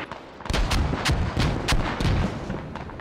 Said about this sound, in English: A concentrated mortar barrage lands right next to the vehicle.